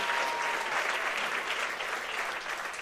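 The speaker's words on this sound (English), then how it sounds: "Let's give them a round of applause." An awards-event audience claps steadily, a broad wash of many hands that holds at an even, fairly loud level for the whole stretch without pause.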